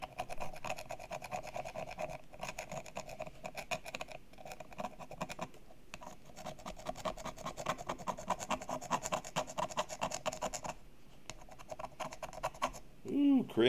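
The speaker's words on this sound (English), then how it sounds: "Do y'all hear that scratch and scrape?" Dry scratching and scraping from rubbing down a Premier model train, a steady rasping texture that runs continuously for most of the stretch with a few brief pauses, close and moderately loud.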